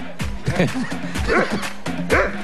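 A tied-up guard dog yips and whimpers in short, strained bursts, three or four cries close by against a steady low background hum.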